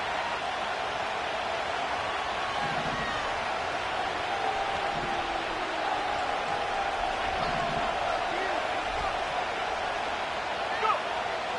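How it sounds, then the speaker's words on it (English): A football stadium crowd roars steadily throughout, a dense continuous wall of cheering and noise that holds loud and even across the stretch, with a play-by-play voice faintly underneath. "This crowd turning up the decibel level."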